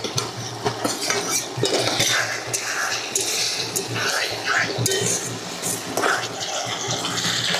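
Potato and green jackfruit pieces tipped into a cooking pan and stirred with a metal utensil: repeated scraping clinks and sizzling clatter, close up, with someone talking over it.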